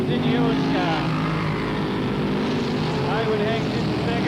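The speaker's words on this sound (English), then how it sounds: "The engine screams in Hewitt's car" A sprint car engine screaming during a 1990 race at Parramatta City Raceway, a loud continuous droning roar with rising and falling pitch, under an announcer's commentary.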